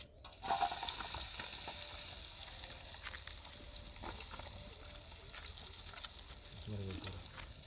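Onions frying in hot oil for a chicken curry, a continuous soft crackling hiss after an abrupt start, with faint scraping and a short clink near the end; quiet overall.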